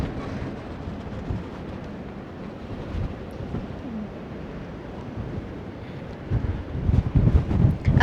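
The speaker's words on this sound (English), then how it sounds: "Ooh, a little windy there." Wind buffets the microphone on the open-air deck of the Harmony of the Seas cruise ship, a constant rough rumble that surges into heavier gusts near the end, with no voices.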